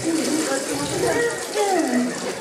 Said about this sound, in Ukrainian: Та вода тече.